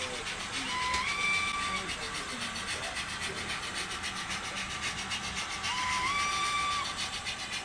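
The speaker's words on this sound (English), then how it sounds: "What a great sounding engine." A model BNSF AC4400CW diesel locomotive runs with a steady droning engine hum and rhythmic whine, while rising two-tone electronic tones sound twice, near and moderately loud throughout.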